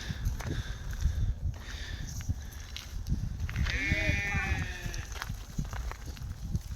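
Sheep bleat on a farm, one clear harmonic bleat rising out of steady outdoor rustle and shuffling, with a few fainter calls around it at moderate distance.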